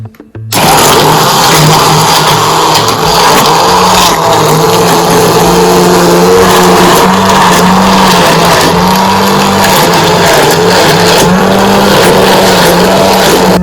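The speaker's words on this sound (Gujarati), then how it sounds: "હવે આ રીતના આપણે ક્રશ કરી લેશું બ્લેન્ડરના મદદથી" A loud blender crushing a banana milkshake whirs continuously after a brief start, its motor pitch shifting slightly as it churns, close and unbroken.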